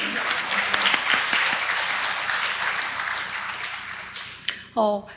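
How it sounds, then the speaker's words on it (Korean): Congregation clapping during a Sunday afternoon church service, sustained applause that gradually thins out before a voice comes in at the end. "여러분 저한테 박수 한번 쳐주세요."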